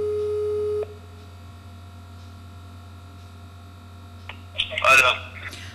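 Telephone line tones during a call to a district official: a steady tone for just under a second, then a low hum, and a brief burst of dialing beeps near the end.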